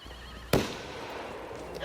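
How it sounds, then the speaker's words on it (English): A single gunshot sound effect cracks sharply near a building, then echoes and decays in a long, fading tail over quiet background ambience. "You hear a gunshot over here."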